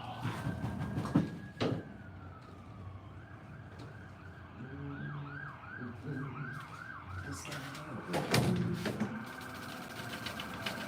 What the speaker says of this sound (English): Got the ambulance going by.